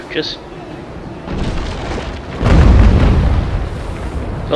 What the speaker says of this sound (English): just bombarded me with shots